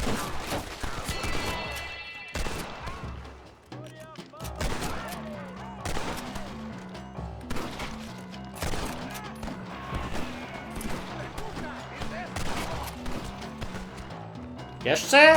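Gunfire in Red Dead Redemption sounds as scattered shots and short volleys fired toward the player across a busy mix, with someone talking over the shooting throughout and a louder crack at the very end.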